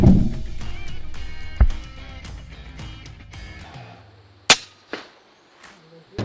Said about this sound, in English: they take one clean, carefully placed shot that ends it instantly and humanely